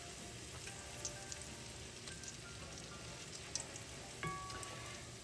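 Apple fritters frying in hot oil, a soft, steady crackle and fine sizzle with scattered small pops, faint and continuous with no one talking.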